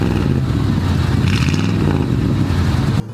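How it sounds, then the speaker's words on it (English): The Ghostbusters 2 Ecto-1A project car, a somewhat worn classic fitted with an aftermarket exhaust, idles with a loud, steady, deep rumble close by before cutting off abruptly near the end. "It's got an aftermarket exhaust that almost sounds like a race car."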